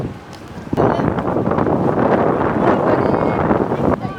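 A boat ride out to Sapi island off Kota Kinabalu, Borneo: a steady, loud roar of engine and rushing water with heavy wind buffeting the microphone throughout.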